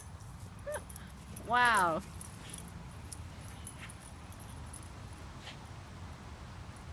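A dog gives a short, high, wavering whimper while playing with a toy bird, one brief cry near the start over quiet background, with a person's voice speaking briefly.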